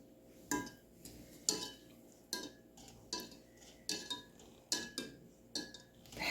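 A utensil scrapes and clinks against a bowl while red jelly is stirred, in eight or nine evenly spaced strokes, each a short clink with a brief scrape trailing off, close and fairly quiet with no talk.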